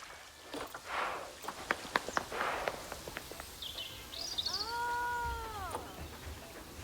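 A West African lion in Planet Zoo growls and moans at close range, with soft padding steps and rustles. Faint bird calls sit in the background.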